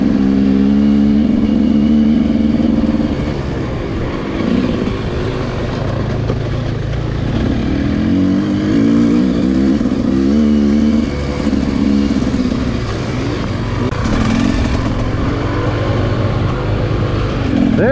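A motorcycle being ridden at a beginner riding spot, its engine droning steadily with rising and falling revs, loud and close throughout.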